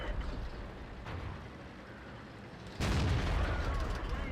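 A tank cannon shot in World of Tanks, the KV-1S, a sudden loud broadband blast that cuts in and stays full and rumbling over a constant engine drone.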